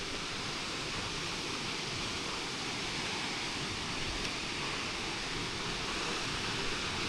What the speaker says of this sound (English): with a waterfall cutting right through the center down to a little pond that flows down this way